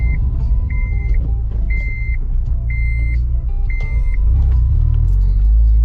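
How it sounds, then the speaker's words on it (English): A lowered car rolls slowly over a speed bump, its engine rumbling loudly and close while a regular electronic beep repeats about once a second, the low rumble swelling near the end. "Successful speed bump test."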